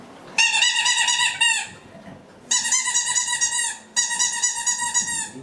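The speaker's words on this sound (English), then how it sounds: "They like their toys. You don't like that squeaky." Three shrill, drawn-out squeaks from a squeaky dog toy played with by French Bulldog puppies, each lasting about a second with short pauses between, close and fairly loud.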